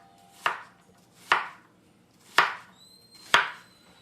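A kitchen knife chops onions on a cutting board for migas, four sharp, separate thuds spaced about a second apart, close and crisp in an otherwise quiet room.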